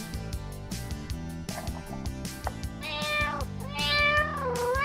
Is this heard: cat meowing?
yes